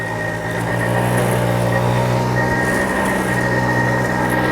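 A 1970 BSA Ariel 3 moped-style motorbike cruising along, its small engine humming in a steady drone blended with wind noise, close and continuous with no voices.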